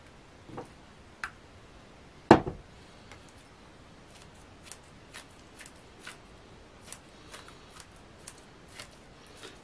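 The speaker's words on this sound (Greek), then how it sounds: "Ένας άλλος τρόπος είναι με ψαλίδι." Scissors snip chicken livers into small pieces in a kitchen, a scatter of sharp, quiet clicks at an irregular pace with one louder cut near the start, no talking.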